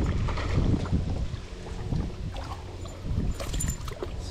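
Heavy wind buffeting the microphone out on open water during fall kayak fishing, a rough continuous low rumble with gusty swells and faint water sloshing against the hull.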